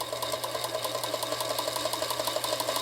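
A 1940 Singer Featherweight 221 sewing machine runs steadily at close range, its needle mechanism ticking in a fast, even rhythm over a constant motor hum, with no voices.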